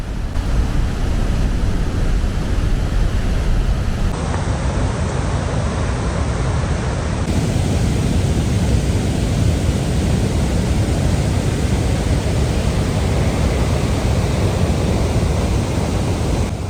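Victoria Falls thundering on the Zambia side, a massive steady roar of falling water filling the air as an unbroken, loud wash of noise with no voices.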